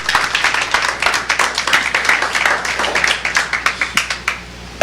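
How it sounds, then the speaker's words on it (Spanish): A church congregation claps together at a bilingual service, a dense run of handclaps lasting the whole stretch, steady and fairly close, with sharper claps standing out toward the end. "Denle un aplauso a Cristo"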